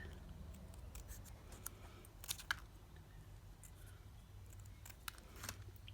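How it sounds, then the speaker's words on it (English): Scissors snip a small paper shape for an Easter bunny card, giving faint, close, crisp clicks and snips in short irregular bursts over quiet room hum. "you could cut out a little shape"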